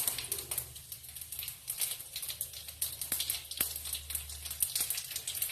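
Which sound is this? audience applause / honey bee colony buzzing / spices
spices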